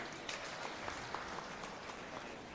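A church audience applauds loudly, a dense, sustained clatter of many hands clapping close together with scattered sharper claps standing out.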